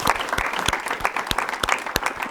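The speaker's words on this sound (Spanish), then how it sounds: "Y os pido un aplauso también para él." Audience applause during a visit by Juan Carlos Unzué to a company, brisk clapping from a small gathered group with sharp individual claps standing out, close and sustained throughout.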